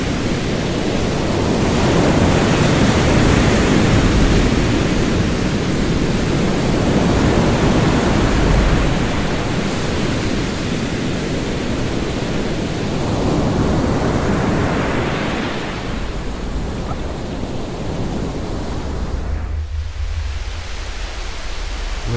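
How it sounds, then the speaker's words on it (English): Loud, continuous ocean surf rolls and washes close by, swelling and easing in long surges of broad hiss, with no voices. "Listen to the ocean and the waves."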